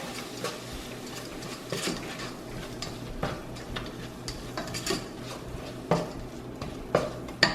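Curry powder is stirred into potatoes and vegetables in a pan, heard as a spoon scraping and clinking against the cookware in irregular close taps and scrapes, with faint sizzling underneath.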